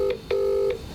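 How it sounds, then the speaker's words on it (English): A telephone number is dialed on a keypad: three clear touch-tone beeps. The second tone is held longer than the first and third. No voices are heard. "Important thing I've got to do now is phone Caroline."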